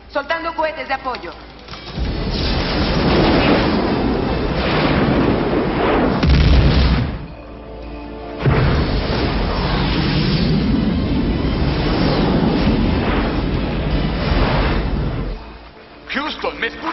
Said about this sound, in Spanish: Soltando cohetes de apoyo.